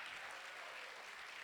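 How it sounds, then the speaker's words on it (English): Audience applause at an awards gala, a faint, steady, dense wash of clapping heard from a distance, with no gaps and no one speaking. "while we're applauding John, let's keep our applause going for the awards committee"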